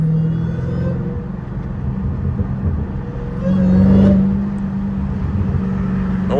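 Dodge Hellcat engine heard from the driver's seat in traffic: a steady low rumble that swells into a louder rev midway, then settles back to a deep idle-like drone, with no talking.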